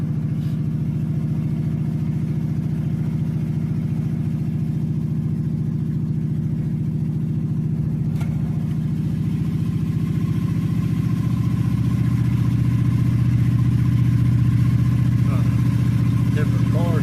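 Car engines idling in a cold setting, a steady loud low hum with a throbbing drone that holds unchanged for the full length, shifting slightly in pitch near the end.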